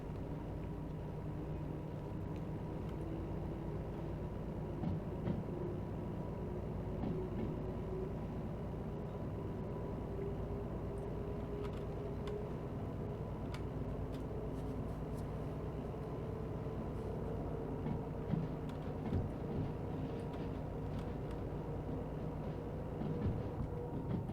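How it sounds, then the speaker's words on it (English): A German V90 diesel locomotive in a train video game, a low, steady engine drone and rumble running continuously with faint metallic clicks and rattles over it, quiet and even throughout. "The V90s, what they're called in Germany, are lovely locomotives."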